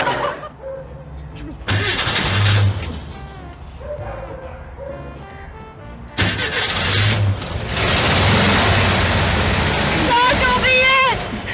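An old car engine cranks and fires up with rough, loud bursts, stalling and catching again before running steadily up close, with people talking over it throughout.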